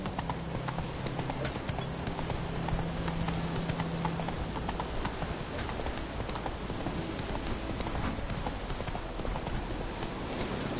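Roach the horse galloping at full speed in The Witcher 3, a steady rapid drumming of hooves in a continuous dense rhythm, loud and close, with a low rumbling wash underneath and no talking.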